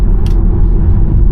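Electric car accelerating out of a roundabout: a steady, loud low road and motor rumble from inside the cabin with no engine note, brief and continuous.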